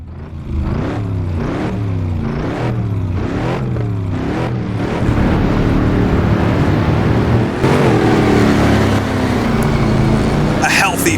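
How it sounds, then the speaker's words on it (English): A 1959 Corvette in Assetto Corsa launches off the grid at Marlboro in an SCCA-style race, its engine revving hard through repeated rising upshifts, tires chirping, with other cars roaring close alongside and a commentator talking over it. "Chirp of the tires, and we're away for a little race here at Marlboro."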